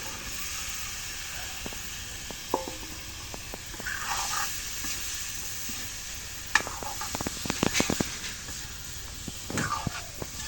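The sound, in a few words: vegetables added to fried spice paste sizzling in pan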